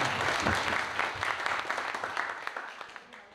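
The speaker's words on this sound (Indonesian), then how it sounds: "Tepuk tangan dong buat Kak Rama coba." A small group at a Sunday school teachers' retreat claps together, a brisk patter of hands that gradually thins out and fades toward the end.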